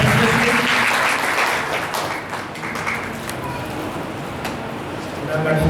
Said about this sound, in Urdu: بیک گراؤنڈر کے لیے زوردار تالیاں دے دیں.